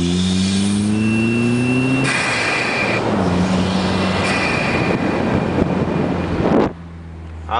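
Onboard recording of a car fitted with a GC MR exhaust, loud and close, rising through gears with abrupt shifts, a harsh raspy roar in the middle, then a sudden drop to a quieter idle.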